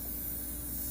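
A Rust-Oleum spray paint can hisses in one steady, continuous, close spray lasting the whole second, with its nozzle spraying at an angle.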